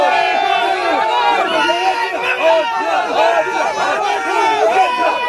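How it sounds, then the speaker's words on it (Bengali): A large crowd of Trinamool workers chants a 'go back' slogan against BJP candidate Khagen Murmu at an election gathering, loud rhythmic massed voices repeating the call throughout. "তৃণমূল কর্মীর সমর্থকদের তরফে Khagen Murmu go back slogan দিতে থাকে"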